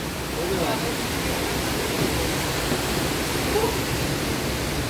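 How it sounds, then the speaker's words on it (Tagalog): Bega Falls in Prosperidad, Agusan del Sur, roars as a steady, broadband rush of falling water that fills the scene without a break, and faint voices sit underneath it. "Ang ganda na falls."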